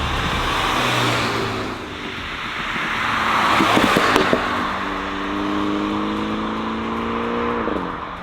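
A car drives along with a steady engine drone that climbs and falls in pitch as it accelerates and shifts, wind and road rumble underneath, heard from inside at close range with no talking.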